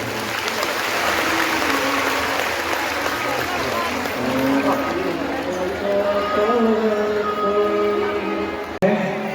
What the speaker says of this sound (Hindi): पर जोरदार ताली बजाएं।